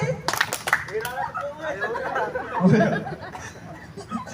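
A group at a campus retreat gathering on Glagah Beach gives a brief, ragged burst of claps on cue, followed by chatter, chuckles and laughter.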